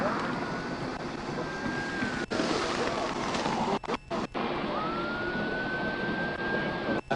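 An ambulance siren wails faintly at a crash scene after a police chase, a long rising and falling tone heard twice, under steady background noise and several sharp knocks.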